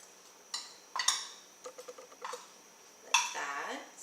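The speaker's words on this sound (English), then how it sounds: "we can just go ahead and stir it up. Try to get them all well coated" A spoon stirs vegetables in a bowl to coat them for a warm goat cheese salad, giving quiet scattered clinks and short scrapes in bursts, with a sharper knock near the end against a near-silent background.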